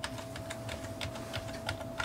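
Rapid keystrokes clatter on a computer keyboard running Windows 10, a steady stream of close, light clicks against a faint background hum, with no speech.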